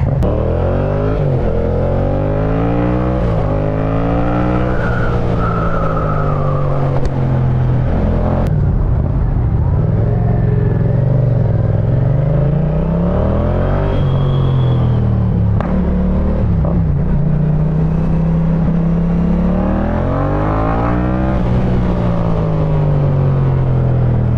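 A Yamaha MT-07 motorcycle engine with a tuned ECU runs loudly and continuously while riding, its pitch rising and falling as it revs through gears, with steady road rumble underneath.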